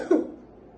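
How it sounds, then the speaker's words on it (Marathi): A woman gives a single short cough, close and fairly loud, with a quick sharp onset that fades within a fraction of a second. "नाही नाही, मला काही नाही झालंय, बस थोडासा खोकला येतोय"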